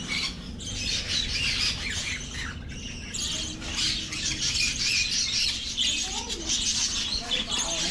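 Blue monk parakeets squawk loudly and continuously at an exotic bird farm, a dense chorus of harsh, overlapping calls with chirps mixed in, close and steady throughout.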